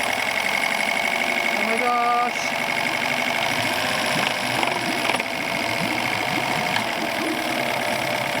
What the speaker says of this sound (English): Yeah, they do sound nice actually, these engines.